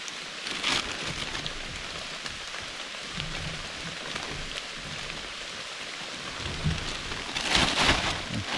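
Steady rain falls close by in an even hiss, swelling into heavier bursts near the start and again toward the end, with no voices.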